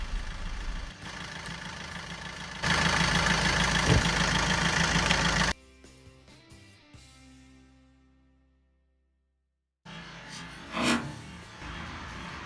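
A power screwdriver backs out two T20 Torx screws from the wheel arch liner of a Vauxhall Opel Corsa D, giving two loud whirring bursts separated by a quiet gap, close up.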